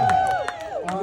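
An audience at a church association fun day at a primary school in St Mary, Jamaica, claps and cheers for two teams. It is a short, lively burst with shouts and whoops mixed in.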